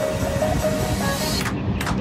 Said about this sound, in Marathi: आता ट्रेन चालली वरून